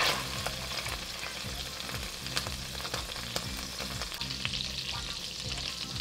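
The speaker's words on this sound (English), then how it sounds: "we're gonna add in the butter first before we do the shallots" Butter melts and sizzles in a pot for beef bourguignon: a steady, close frying hiss with faint crackles and occasional stirring scrapes, with no talking.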